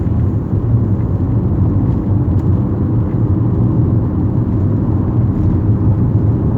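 A manual transmission car accelerating through the gears: a steady, loud, low engine drone with road rumble, heard from inside with no talking.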